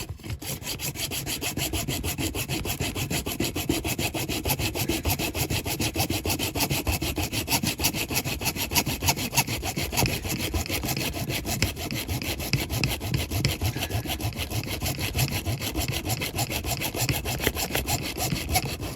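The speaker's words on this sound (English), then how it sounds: "So we'll carry on sawing it, so it comes right off in half." Continuous back-and-forth sawing through a die-cast Corgi Mercedes ambulance toy car, a fast rasping rhythm up close, steady and loud throughout with no talking.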